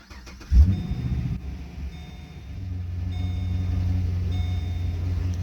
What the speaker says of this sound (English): This is a little cold start for you guys